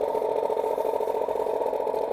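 A Hornby Elite DCC model locomotive in a garden railway setting plays its motor sound: a steady, fairly loud mechanical engine drone with a faint clatter, continuous throughout.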